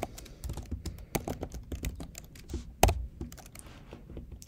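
Computer keyboard keys clatter in quick, uneven bursts of typing, close and fairly soft, with one sharper keystroke near the middle and no voices.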